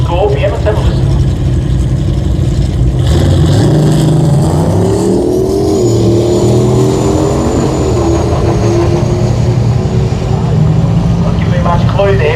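A race car engine revs loudly and continuously, its pitch climbing and dipping as it accelerates and eases off, with a second engine drone underneath.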